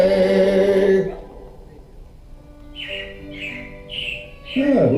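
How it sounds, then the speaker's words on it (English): Robins calling outdoors, a run of four short chirps at moderate distance following a louder tonal sound, with quiet ambient noise between. "it looks like the Robins are getting ready to celebrate Valentine's Day today"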